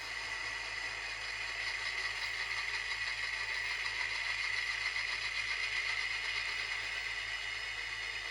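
Small model train engine running steadily on a layout, a continuous even whirring and rattling hum with fine rhythmic clatter, close and alone without any talk.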